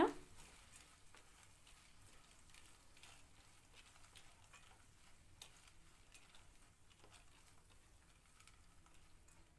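Pasta sizzles softly in a pan while a utensil stirs and scrapes through it, a quiet continuous crackle with light ticking.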